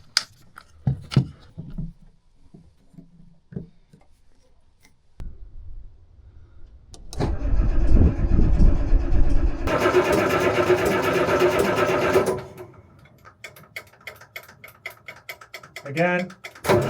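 A newly installed engine on a motor cranks and catches, roaring loudly for several seconds with a rising, dense rattle before cutting out, followed by clicks and a faint voice nearby.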